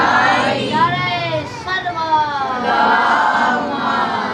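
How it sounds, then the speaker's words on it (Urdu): A large crowd at a Muharram religious gathering shouts the Haidari slogan in unison, a loud, massed roar of voices that swells, dips briefly and rises again. "نعرہ حیدری حیدری نعرہ"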